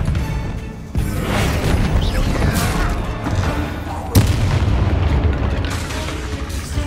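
An Expelliarmus disarming spell cast in a Harry Potter video game: a sharp magical burst and later a louder booming impact over a dense, continuous bed of game music and rumble.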